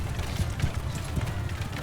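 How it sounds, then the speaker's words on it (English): Horse hooves clip-clopping in a Mount & Blade II Bannerlord battle, a dense, rapid patter of heavy thuds up close and continuous throughout. "Let me get my horse out of your way."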